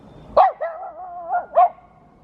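Close by, a dog lets out a few sharp barks mixed with a short whining howl, agitated after sniffing animal tracks outdoors.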